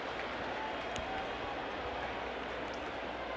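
A baseball stadium crowd at an Orioles versus Yankees game roars after a home run, a dense, steady wash of cheering that holds at an even level throughout with no clear speech.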